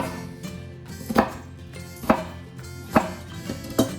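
A knife cuts lines into an onion on a board while preparing chicken salad sandwiches, making about four crisp, evenly spaced chopping strikes close up with no talking.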